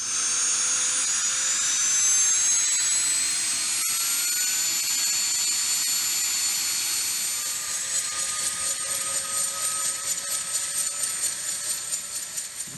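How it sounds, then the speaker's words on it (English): A CH-47 Chinook twin-rotor military helicopter's turbine engine starts up with a loud, close, steady high-pitched whine that rises and layers into several tones, with a faint pulsing building toward the end. No voices. "Once the pre-start checks are complete, the pilot can start the engine."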